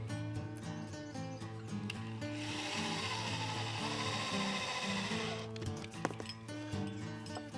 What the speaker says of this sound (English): I'm going to put the 2 screws in the ends to seal it.